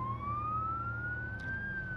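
Ambulance siren from the BeamNG driving game, a loud continuous wailing tone sliding slowly upward then dipping, over a steady low engine drone, with no talking.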